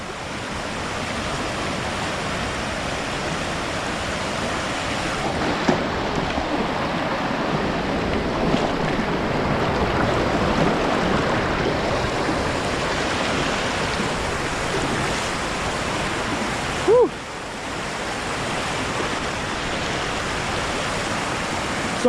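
A flooded creek surges past a crossing, its water rushing in a loud, constant broadband roar close by, with a brief knock partway through and no talk.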